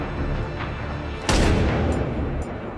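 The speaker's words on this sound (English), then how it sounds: "The sniper rifle fired." A sniper rifle shot in a film, one loud sharp crack with a heavy booming tail over a dense rumbling background, followed by faint distant high pings.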